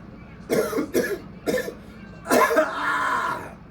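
A person coughs close by, three short harsh coughs followed by a longer rougher fit, with no other sound around them.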